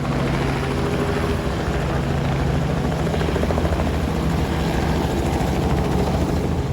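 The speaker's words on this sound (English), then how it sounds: "It's always cool to see the chopper out" A helicopter flies overhead for aerial coverage at an off-road stadium truck racing event, its rotor making a loud, continuous, chopping roar that stays constant throughout.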